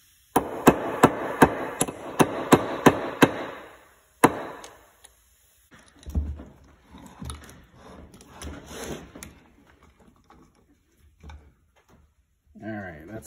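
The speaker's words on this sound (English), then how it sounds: "I'll put that through and I'll pound in and peen out the other end of it" Hammer peening a brass rivet on a vintage vise, about a dozen sharp, loud metallic blows in quick succession, followed by scraping and handling noises while someone talks.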